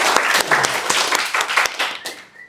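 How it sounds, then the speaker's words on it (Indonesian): Audience applause for a question at a talk is brief and close, with several sharp claps that fade within a couple of seconds, and a faint voice enters at the end. "Kita beri tepuk tangan buat pertanyaan."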